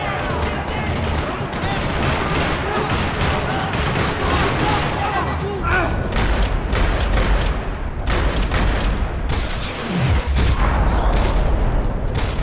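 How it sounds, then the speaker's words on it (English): Gunfire in a parking lot in the video game Max Payne 3, dense rattling bursts of shots blending with loud action noise, steady throughout, with a voice heard briefly. "Another parking lot rattling with gunfire."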